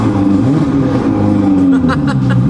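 2016 Ferrari 488 GTB twin-turbo V8 not yet warmed up, given a couple of short blips of revs: a loud, close, steady engine drone rising slightly with brief throttle bursts near the end.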